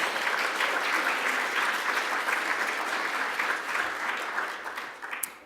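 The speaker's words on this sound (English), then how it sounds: "Yes, you can clap." An indoor audience at a YMCA partnership announcement applauds, a dense burst of clapping that stays full and close, then tapers off near the end.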